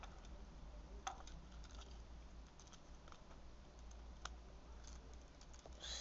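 Plastic parts of a Transformers Revenge of the Fallen Dirt Boss Scout toy being clipped together: faint, sparse little clicks and ticks close by over a low steady hum.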